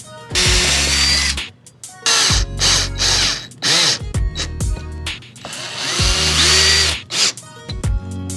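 A power drill driving screws while an AC unit is fitted in a garage, several bursts of whirring that rise and slow as each screw goes in, separated by brief pauses, close and loud.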